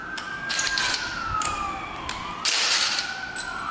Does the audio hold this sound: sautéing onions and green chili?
no